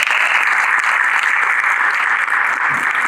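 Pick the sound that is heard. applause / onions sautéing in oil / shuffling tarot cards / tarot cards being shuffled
applause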